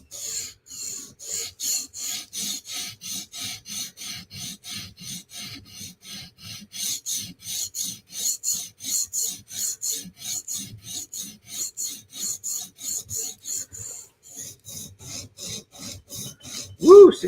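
Steady rhythmic rasping of a knife blade stroked over a sharpening stone on a TSProf Kadet sharpener, dozens of even back-and-forth passes close up, with a brief sound at the very end.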